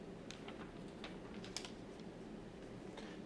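Soft, scattered keystrokes on a computer keyboard tap out at an irregular pace, faint and close over a low background hum, with one slightly sharper press midway.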